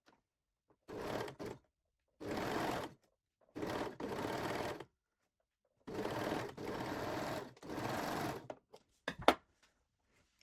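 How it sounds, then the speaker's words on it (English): A sewing machine stitches through three fabric layers along a panty crotch seam in about six separate bursts, the longest lasting about a second, with silent pauses between and a brief clatter at the end. "And then we can sew these 3 layers, the crotch seam."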